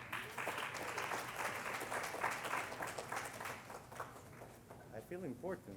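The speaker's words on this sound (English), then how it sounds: "Please give him a big round of applause." A crowd applauds a speaker taking the stage, steady dense clapping for several seconds that thins near the end as a voice begins to speak over it.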